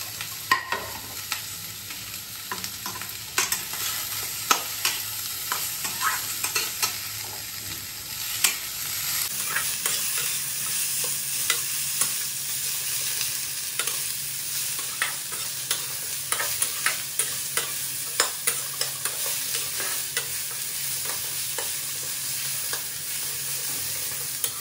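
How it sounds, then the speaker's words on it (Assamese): Onions and ginger-garlic paste fry in an oil-free pan for a pork and mustard-greens curry, a steady sizzle broken by frequent clinks and scrapes of a stirring spoon. "এইখিনি অলপমান ভাজাৰ পিছত যোনখিনি পিঁয়াজ কাটি থৈছিলোঁ সেই পিঁয়াজখিনি দি দিম"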